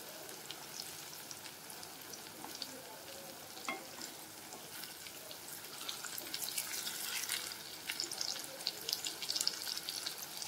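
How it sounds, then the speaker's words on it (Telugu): Eggplant frying slowly in a pan for vankaya karam curry, a steady close sizzle with occasional scrapes as the pieces are turned, no voices. "ఈ వంకాయ బాగా ఫ్రై అయిపోయి మెత్తగా అయ్యేంత వరకు ఇలానే ఉంచాలండి"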